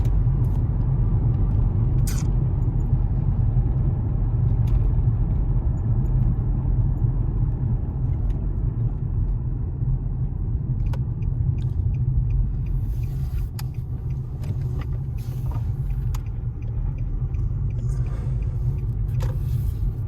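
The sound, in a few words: Nissan car engine running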